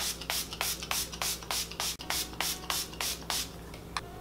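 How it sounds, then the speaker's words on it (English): Milani Make It Last setting spray is misted onto a face in about a dozen quick, evenly spaced hissing pumps, close and fairly soft, with no talking. "I'm gonna take the Milani Make It Last setting spray one more time"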